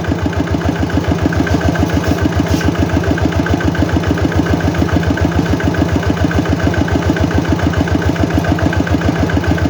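A walking tractor engine idles steadily and loud up close, a fast even chugging pulse holding constant throughout with no talk.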